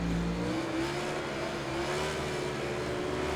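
Racing motorcycle engines in MotoGP 19 at Le Mans, with a Suzuki and a Ducati among them, hold a continuous high buzzing drone, and the pitch climbs gently as the bikes accelerate.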